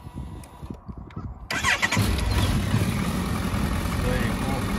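A Suzuki GSX1250FA motorcycle engine cranks briefly and catches, then settles into a steady, close, loud running idle with a deep low rumble, following some quieter handling noises at the start.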